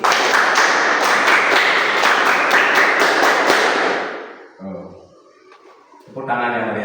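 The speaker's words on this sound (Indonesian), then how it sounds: "tepuk pramuka 1 kali" A classroom group does the Pramuka scout clap, a fast run of sharp, even claps filling the first four seconds loud and close, ending abruptly, followed by quiet and then a voice speaking.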